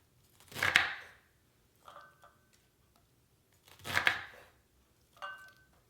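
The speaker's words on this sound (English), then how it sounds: "I'm going to cut up the onion and add it to this small bowl." A knife chops half an onion into smaller chunks on a cutting board for beef heart stew, with four separate chopping strokes spaced about a second apart, close and fairly quiet.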